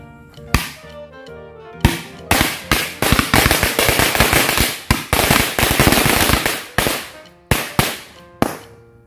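Loud crackling bursts from a green-colour firecracker fountain, a dense stretch of rapid pops in the middle with scattered sharp cracks before and after.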